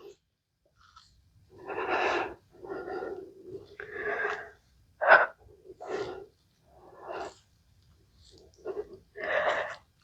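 Rhythmic, audible breaths during a Pilates mini ball exercise, a series of about eight separate inhales and exhales, close and clear with short pauses between them.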